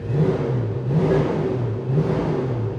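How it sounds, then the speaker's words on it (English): A 1970 Ford Mustang Mach 1 M Code fastback's big V8 rumbles and revs steadily up close, with two swells in engine note over a deep idling throb and no talking. "You sit here and you watch it just shaking with that vibration of that big, powerful engine that's tucked away inside"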